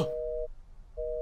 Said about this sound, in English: The phone went out.